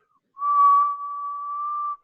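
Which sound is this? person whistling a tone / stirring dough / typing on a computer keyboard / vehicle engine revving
person whistling a tone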